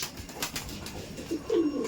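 A male Kaldom pigeon coos in a loft, giving a soft, low call near the end of a short stretch over faint rustling and background bird sounds.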